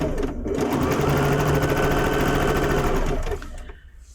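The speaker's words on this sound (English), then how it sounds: "just sew this one in as well" A sewing machine stitches quilt block pieces in one steady, loud run of about three seconds with a dense mechanical hum, then stops and fades.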